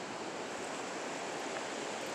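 Steady rushing water, a broad even wash of noise with no breaks, like a river flowing close by.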